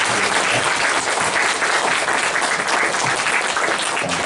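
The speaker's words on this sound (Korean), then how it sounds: "박수 드리겠습니다." A church congregation applauds teachers standing for recognition, a steady, dense wash of clapping from many hands that holds at an even level throughout, with no voices rising above it.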